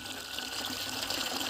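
Water gushes steadily as containers are filled from a village water source, a continuous, fairly quiet rushing flow with no voices.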